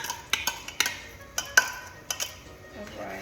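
Spoon scraping and clinking against a pot while rice is stirred into boiling water, a run of sharp taps and knocks at an uneven pace, close and clear, with no talking.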